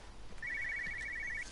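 Telephone ringing in the video game Everybody's Gone to the Rapture, a single short trilling electronic ring lasting about a second over a soft low background rumble.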